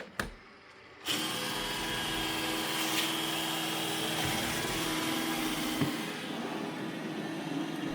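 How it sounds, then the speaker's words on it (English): A refurbished iRobot Roomba E6 robot vacuum starts up after a second of quiet and runs steadily over carpet with a continuous whirring motor and brush hum, moderately loud and close, no talking. "It says ready to vacuum,"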